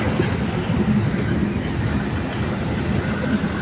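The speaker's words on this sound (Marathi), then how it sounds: "ट्रेन जाते घाटातून" A train runs through a mountain ghat with a steady, loud rumbling roar and faint rhythmic clatter, continuous and fairly close, with no talk.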